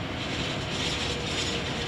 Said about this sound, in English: here's that flight from Fort Lauderdale and the 777 landing on 28 Center.